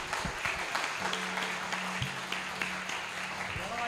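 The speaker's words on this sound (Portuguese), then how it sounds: "Aplauda o Senhor, vamos aplaudir." A church congregation at a Baptist family service applauds steadily, with scattered claps and faint background tones, moderately loud and continuous for a few seconds.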